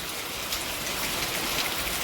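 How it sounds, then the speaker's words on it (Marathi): Steady monsoon rain falls and patters on surfaces, dripping from the roof eaves, a continuous hiss without a break. "पाऊस दाखवू काय तुम्हाला पाऊस थांबा दाखवते"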